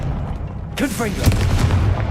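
A Confringo blasting spell in Hogwarts Legacy on PS5 fires off as a sudden booming blast partway through, followed by crackling impact sounds, with a voice speaking over it.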